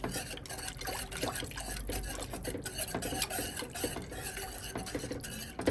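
Rice flour whisked into liquid to dissolve it with the stove off, a faint, fast scraping and rubbing of the utensil against the pot, steady and close, with no voices.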